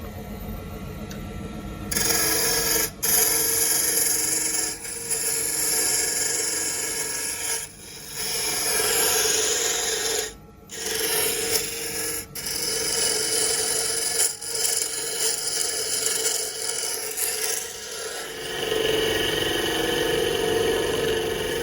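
Continuous scraping and shaving of wood being turned on a lathe, with short pauses as the tool lifts off, no speech.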